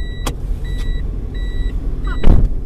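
Toyota Vios door-open warning chime, a string of repeated electronic beeps inside the cabin over steady engine and road rumble, with door clunks before and after.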